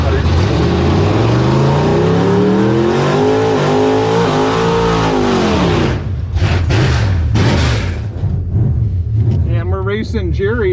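A Chevrolet Monza drag car with big tires revs hard at a drag strip, its engine sweeping up and down loud and close before the note drops away. Someone speaks over the engine.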